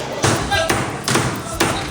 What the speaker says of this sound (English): It's so loud in here because they're banging the fish on the table.